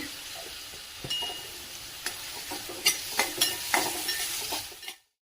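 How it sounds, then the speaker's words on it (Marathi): Chopped onion sautés in a hot pan with a half spoon of salt, a steady close sizzle broken by several sharp spatula scrapes and clinks against the pan before an abrupt stop. "कांदा व्यवस्थित परतून घ्यायचा। कांदा परततोय"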